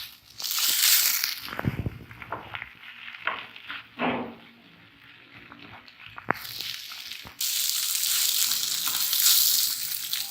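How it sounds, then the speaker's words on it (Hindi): Bread slices with onion, tomato and spices being fried and stirred in a pan, heard as bursts of sizzle broken by spoon scrapes and knocks, settling into a steady, louder hiss toward the end. "इसको भी थोड़ा सा भूनना है हमने, प्याज और टमाटर और सारे मसालों के साथ।"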